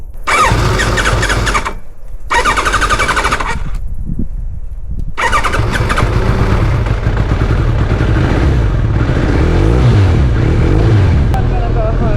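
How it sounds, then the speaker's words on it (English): A loud 2001 Kawasaki ZRX1200S motorcycle engine, faulty, runs with an uneven, rough tone and a high squeal, cutting out briefly twice before roaring steadily again. "That bike was making a weird noise."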